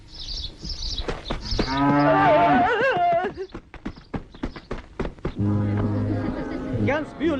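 Cows low loudly and close by in a long drawn-out moo, with a second deep moo following after a short pause, set amid light rustling and shuffling from a farmyard.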